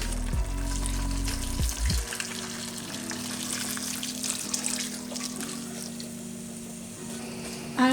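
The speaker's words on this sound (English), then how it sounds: "I'm just waiting for this to boil right now" A pot of cauliflower and fennel soup heats toward a boil, giving a continuous bubbling, trickling wash of liquid with a low steady hum beneath it.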